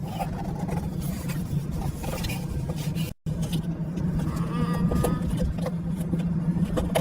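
Steady engine hum and road drone fill the inside of a moving car, a constant low rumble with a brief dropout midway and faint voices now and then.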